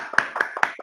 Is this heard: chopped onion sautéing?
no